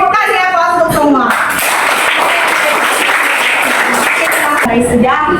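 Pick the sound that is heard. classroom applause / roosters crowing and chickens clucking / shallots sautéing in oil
classroom applause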